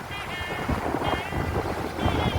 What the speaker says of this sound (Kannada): ಅದಾದ ನಂತರ ಬೋಟ್ ಸ್ಟಾರ್ಟ್ ಮಾಡ್ಕೊಂಡು ಪ್ರಯಾಣವನ್ನು ಪ್ರಾರಂಭ ಮಾಡ್ತಾರೆ